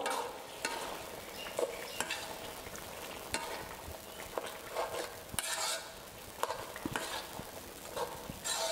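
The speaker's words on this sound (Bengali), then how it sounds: "একটু নাড়াচাড়া করব" Ground spices being stirred into a simmering shrimp and jackfruit curry, with a steady low sizzle and repeated sharp scrapes and clinks of a spoon against the pot, heard close and with no talk.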